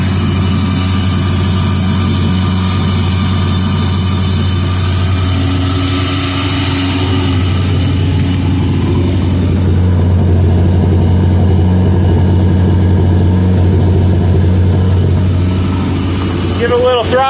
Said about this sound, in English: Oh yeah, she's idling good and high.